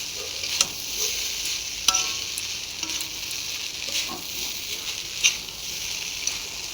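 Poha is stirred with spices and Kashmiri chilli powder in a pan, a steady close sizzle broken by scraping strokes and occasional clinks of the spoon, with no one talking.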